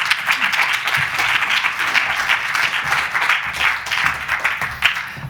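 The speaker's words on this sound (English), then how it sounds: "I want you to give a huge round of applause, please, to Professor Ciaran O'Boyle" A conference audience applauds Professor Ciaran O'Boyle at a positive psychology session, with steady, full clapping from many hands that stays loud and even throughout.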